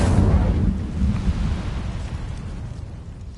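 Incendio fire spell in Hogwarts Legacy, a loud, deep rumbling burst of flame that roars at the start and keeps churning steadily, with no voices.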